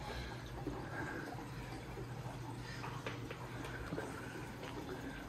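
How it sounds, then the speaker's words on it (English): Water pours and gurgles steadily through a lily pipe return into a budget reef tank sump, a continuous bubbly churning flow with occasional splashes and drips, close and constant throughout. "The lily pipe is pushing water through"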